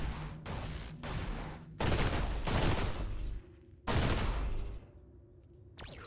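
Turret gunfire in the Caves of Qud video game, several loud, bursting volleys in close succession with short pauses and ringing decays between them.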